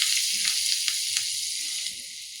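Hot tempering poured into buttermilk curry (mor kuzhambu) gives a loud, steady, bright sizzle that hisses continuously and tapers off slightly toward the end.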